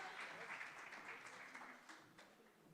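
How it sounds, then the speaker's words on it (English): Audience applause at a community impact awards ceremony, a steady burst of clapping from a crowd that slowly fades over a couple of seconds. "Can we get a big round of applause?"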